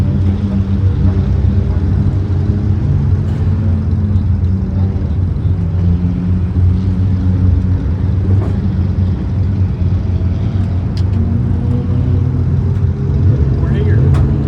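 A new race car's engine rumbles low and steady at Federated Auto Parts Raceway Park during a test and tune session, continuous and close, under people talking.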